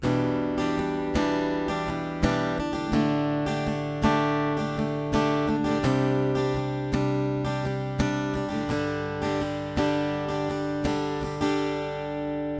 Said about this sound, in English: I'm strumming down, up, down, down, up, down, down, down, up